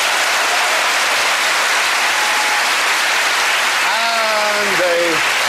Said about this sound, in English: give a big hand for Sue Perkins